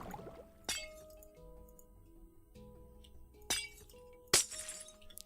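Blocks broken in Minecraft Bedrock Edition: three sharp, glassy cracking bursts at uneven intervals, each loud and brief, over quiet background game music.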